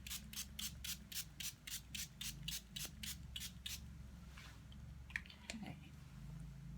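A spray bottle spritzes water onto paints in about a dozen quick, evenly spaced bursts, followed by quiet handling and brush sounds.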